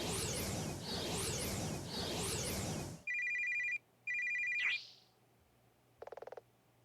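Phone ringing: a warbling electronic ringtone repeats three times, then a sharper beeping tone pulses in two bursts, followed by a swish and a short rapid trill.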